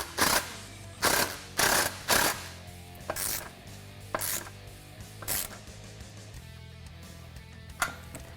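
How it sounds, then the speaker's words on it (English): Short, sharp metallic bursts come from a power tool tightening an exhaust clamp on the front pipe and muffler of a 2015 Ford F-150, in irregular pulses over a low steady hum. "Now we can tighten up this clamp on the front pipe and the muffler."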